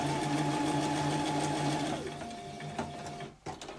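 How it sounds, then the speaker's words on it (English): A sewing machine stitches fabric for a pyramid weight, a steady close whirring hum that slows and stops near the end with a few soft clicks. "you can always then turn it round and go back over your stitched line, back off the end if you want to"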